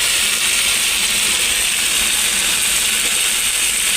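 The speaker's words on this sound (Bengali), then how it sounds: "তোমরা এক হাতে কড়া ধরবে আর এক হাতে খুন্তি ধরবে, দিয়ে নাড়াবে" Vegetable curry stirred with a spatula in a kadai gives a steady, bright sizzling hiss with faint scraping and clicking, continuous and fairly loud for about four seconds, with no talking.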